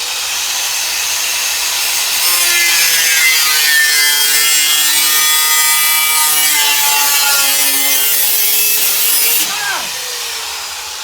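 A power tool cuts metal strips for the bed of a Chevy C20 truck: a loud, sustained cutting whine that rises in pitch and holds for about seven seconds before winding down, close and unbroken, with no speech.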